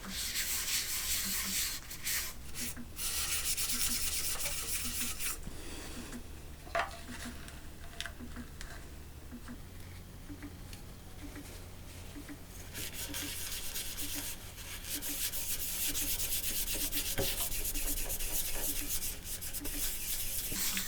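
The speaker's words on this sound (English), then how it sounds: "So my first step is to apply the sanding paste." A rag rubs sanding paste into a turned wooden bowl spinning on a lathe, a steady hissing scrub with faint rhythmic ticking underneath, close and fairly quiet, easing off partway through and then resuming.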